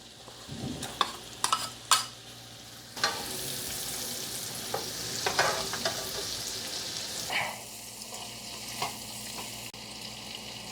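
Shrimp drops into a hot pan and fries with a loud crackling sizzle, along with scattered clanks of stirring and pan contact, and no voices.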